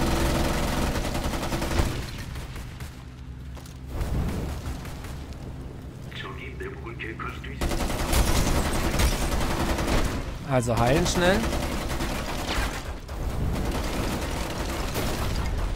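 Gunfire and grenade blasts in the shooter Homefront: The Revolution, sounding as dense bursts of shots and booms throughout, loud and close, with someone talking in German over the fighting.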